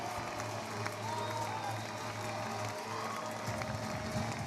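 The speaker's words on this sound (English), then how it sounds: "the crowd is absolutely loving it" Broadband crowd cheering and applause fill a college baseball stadium after a home run in a Texas A&M versus Florida game, a steady roar holding at a constant level throughout with faint voices mixed in.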